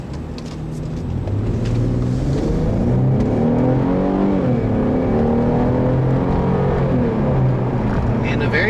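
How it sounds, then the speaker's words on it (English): A 2007 Infiniti M35x V6 drones from its exhaust while driving, the engine note rising and falling through gear changes under a steady cabin hum, with someone talking over it. "a very typical Infiniti Nissan soundtrack from that V6"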